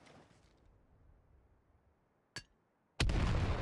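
Grenade in the video game Battalion 1944, a quiet stretch of low ambience, then a sharp short burst and, moments later, a loud heavy explosion that rumbles on.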